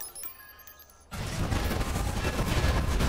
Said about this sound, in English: Load of explosions, this is good